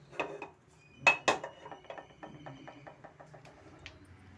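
A pan is set down for cooking bisi bele bath and two to three spoons of ghee are added, giving a few close metallic clanks followed by a run of light, rapid spoon taps against the pan, with no talking.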